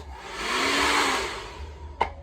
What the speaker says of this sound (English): So this is my blow dryer.